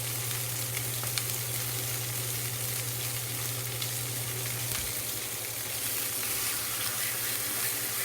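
Chicken pieces searing in a hot skillet give a steady, dense sizzle and crackle that stays up close throughout, with a low hum underneath.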